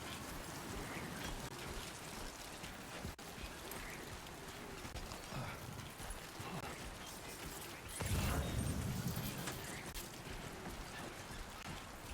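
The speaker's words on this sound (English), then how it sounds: "I think the rain is stopping." Steady rain in the video game Death Stranding 2 patters and splashes throughout, a dense even hiss with a louder, heavier burst partway through.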